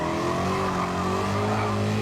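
A Roadster Shop car loses traction in Gran Turismo 7, its tires squealing in a steady, sustained screech over the droning engine for about two seconds without a break.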